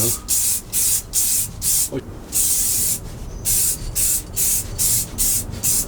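Spray paint hisses in short repeated bursts onto engine parts of a Mk2 Golf 16V, each spurt about half a second with brief gaps, close and loud.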